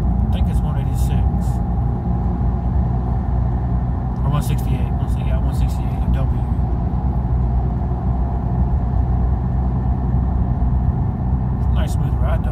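Steady, loud road and engine rumble heard from inside a car driving on the road on new tires, a constant low drone with a few brief voice sounds over it.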